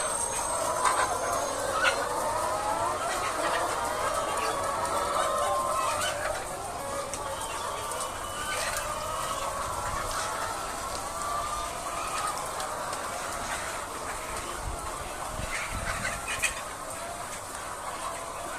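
A dense, steady chorus of many chickens clucking and chattering on a poultry farm, continuous and fairly loud throughout with no talking.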